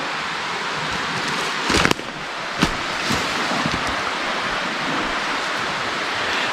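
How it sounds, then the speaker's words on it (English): A waterfall rushes somewhere off in thick forest, a steady broadband roar. Wind buffets the microphone with a couple of brief thumps. "Almost sounds like there's a waterfall over there."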